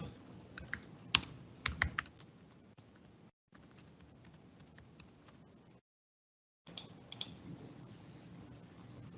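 Someone types a message on a computer keyboard, with quick, close, clattering key presses in uneven bursts broken by short pauses.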